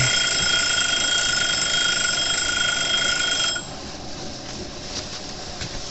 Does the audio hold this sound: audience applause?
no